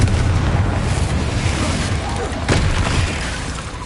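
A Confringo explosive spell blast in Hogwarts Legacy, a loud booming rumble with a sharper burst midway, dense low noise fading slightly toward the end, with voices mixed in.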